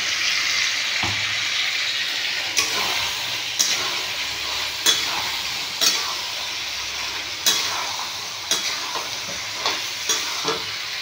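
Pumpkin cooking in a pan with ginger and cumin paste: a steady, close sizzle of frying runs throughout, punctuated by repeated sharp scrapes and clacks of stirring at irregular intervals.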